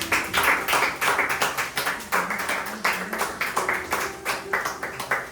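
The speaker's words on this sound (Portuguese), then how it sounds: "Vamos aplaudir o Senhor Jesus Cristo" Church congregation clapping during a Portuguese-language communion service, a steady run of dense hand claps that pulses with repeated accents, moderately loud and close, with a few faint voices mixed in.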